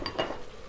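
A lid goes onto a pan of mutton liver cooking in oil, with a quick metallic clink followed by a short rattle as it settles, brief and close.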